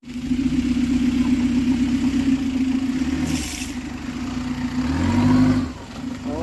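An Isuzu Trooper engine runs loudly close by, holding a steady idle drone, then dips and revs up again with a rising roar before it settles back.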